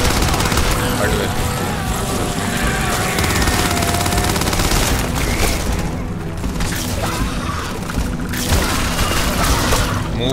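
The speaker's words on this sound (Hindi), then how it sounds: "टाइम है मशीन गन निकालने का" Machine gun fire and booms in the video game Starfield, a loud, continuous clatter of shots with blasts mixed in, a voice talking over the action.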